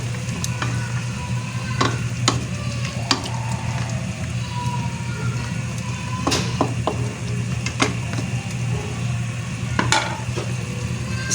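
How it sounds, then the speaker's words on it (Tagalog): A pot of sweet and sour chicken adobo with pineapple, potato and sweet potato bubbling on the stove, a steady low simmering rumble with occasional sharp clinks and pops, close and continuous with no voices. "Okay, it's boiling."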